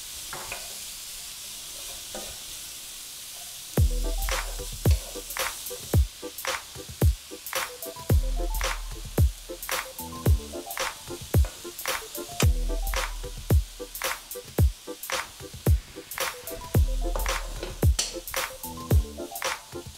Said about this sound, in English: Oh yeah, we sizzling